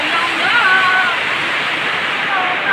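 Steady, loud rain pours down in a broad, continuous hiss with no breaks, close by, with faint tonal sounds from the surroundings in the background.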